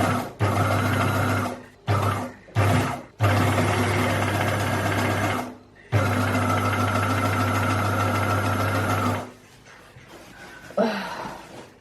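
An old sewing machine runs in loud bursts that start and stop abruptly, sometimes racing fast and then cutting out. It falls quiet near the end, with a brief faint rustle.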